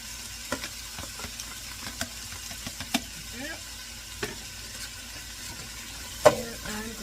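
Food frying in avocado oil while being stirred, a quiet bed of sizzle punctuated by scattered scraping clicks and taps of the utensil, with one sharper knock near the end.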